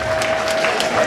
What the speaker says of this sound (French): Un peu d'applaudissements pour Francis Delperré.